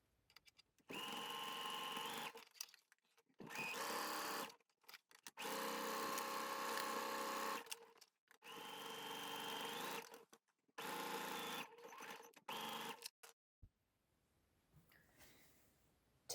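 A sewing machine stitches the sleeves of a quilted jacket in five bursts of steady, rapid whirring, each a second or few long, separated by brief pauses, then falls quiet at the end.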